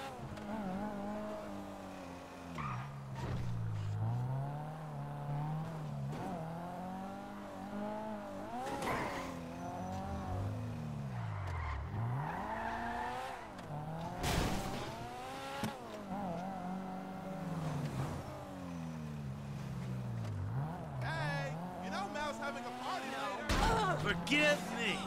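A car in GTA 5 is driven hard, its engine revving up and down in long sweeping waves, with tires squealing through turns and a few sharp crashes or slams along the way.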